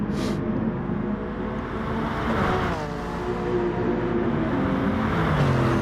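Lexus and Alfa Romeo race cars battling at the Nürburgring GP circuit in GT Sport, engines droning and revving loudly throughout with pitch sweeps as gears shift and cars run side by side.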